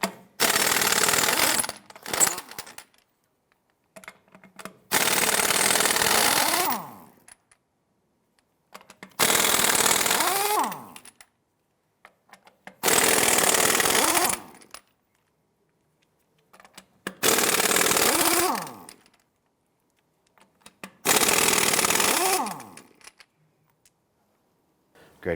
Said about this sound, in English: use a 21mm socket and remove these lug nuts